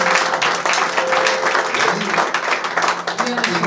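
A church congregation breaks into loud, dense applause at a healing service, many hands clapping continuously up close with voices mixed into the crowd noise.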